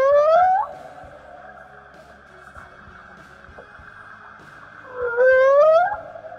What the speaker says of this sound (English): we could literally hear the whales talking underwater